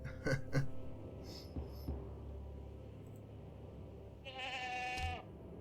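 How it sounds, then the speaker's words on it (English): A goat bleats in the I Spy Fantasy video game, with short cries near the start and a longer, louder wavering bleat toward the end over a quiet background. "A goat."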